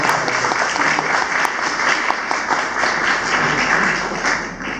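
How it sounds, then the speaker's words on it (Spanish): Audience applause for a doctor at a medical society talk on congenital heart disease, steady dense clapping from a room of people, loud and continuous before fading slightly at the end. "le pido un aplauso para el doctor"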